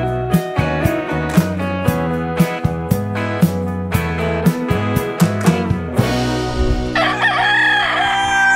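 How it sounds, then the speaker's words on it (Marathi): Hens at a native village home cluck loudly and repeatedly close by in a busy rhythmic series, and a rooster then crows near the end. "बापरे किती ओरडतात कोंबडी ना"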